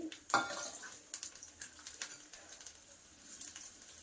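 Garlic cloves, separated rather than crushed, hit hot oil with amaranth leaves in a pan for a Telugu thotakura fry: one sharp clatter near the start, then a steady soft sizzle with light stirring and scraping.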